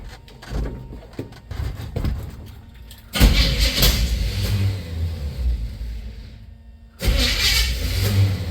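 A 1954 GMC truck engine cranks and fires in two bursts, each starting abruptly and running loud and rough for a few seconds. Quieter engine noise sits in between.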